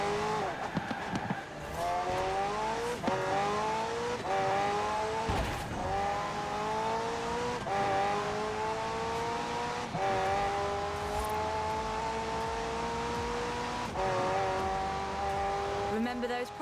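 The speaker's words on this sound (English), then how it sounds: "The car's blistering performance is delivered by a twin-turbo V8, supplemented by a McLaren ECU electric motor and instant power assist system" A McLaren twin-turbo V8 hybrid car driving in Forza Horizon 4, its engine droning steadily and rising in pitch through repeated gear changes, with a voice talking over it throughout.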